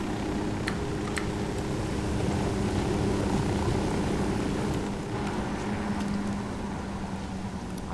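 Aircraft engine drone while landing in the game Ghost Recon Wildlands, a steady loud propeller hum and roar that fills the whole stretch without a break.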